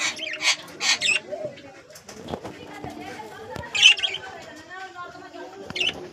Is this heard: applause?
no